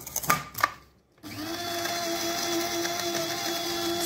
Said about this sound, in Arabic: هاد شوية د المسك هدا غادي نطحنوه تا هو باش يعطينا الريحة معاه